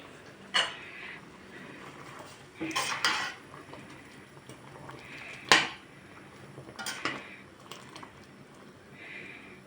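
A spoon clinks and scrapes against a pot of fig jam that has boiled for twenty minutes as it is stirred and checked, with several scattered metallic knocks over a low, steady background.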